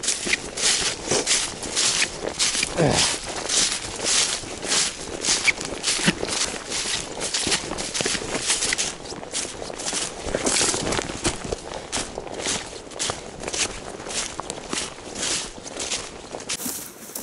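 Steady footsteps crunching along a taiga road, a continuous regular walking rhythm close to the listener, heard alone without talk.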